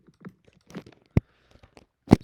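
Minecraft note blocks set to snare drum and bass drum tap out a sparse rhythm of soft clicks and two sharper, louder percussive hits, heard on their own with no talking.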